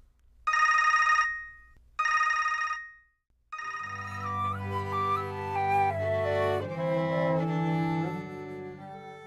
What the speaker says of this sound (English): His brain signals are then sent to the cell phone for an automatic dial.